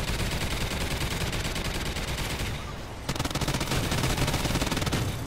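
A Gatling gun in Black Ops 3 fires sustained rapid bursts, a dense loud stream of shots that drops off briefly near the middle, then resumes at full intensity until the end.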